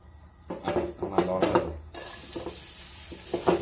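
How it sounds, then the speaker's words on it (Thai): Onions stir-fried in a pan, with a scraping stir and a steady sizzle that swells to a brighter, louder frying hiss partway through, close up, with occasional clinks and no talk. "เดี๋ยวเราผัดหัวหอมก่อนนะฮะ"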